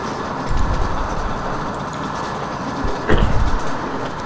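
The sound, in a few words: locomotive braking in Open Rails train simulator video game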